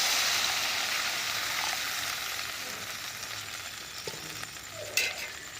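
Masala spice paste frying in oil for a Lalon tikka fish curry, giving a steady, close hiss of sizzling with a couple of soft clinks from stirring near the end and no voices.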